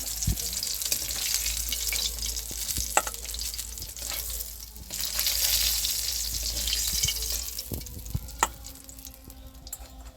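Rohu fish pieces frying in hot oil, a dense crackling sizzle that swells and eases, with occasional sharp pops and utensil knocks, close and without voices.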